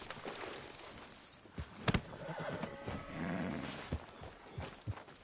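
A horse in the video game Red Dead Redemption 2 neighs in a few sharp whinnies with snorts and hoof clops between them, fairly close and loud.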